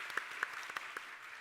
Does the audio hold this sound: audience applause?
yes